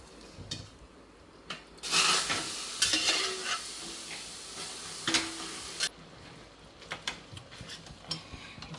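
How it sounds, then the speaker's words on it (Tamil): Cooked dal being mashed in a metal pot, a close scraping, stirring rasp that swells loud for a few seconds and then trails off into lighter intermittent scrapes, with no voices. "இப்போ நம்ம அதை எடுத்து இதில் போட்டு நல்லா மசிச்சுக்கணும்"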